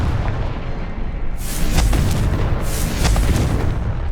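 A Confringo blasting spell in Hogwarts Legacy erupts in loud, booming explosions, two heavy bursts with rumbling tails over a dense, noisy game soundscape.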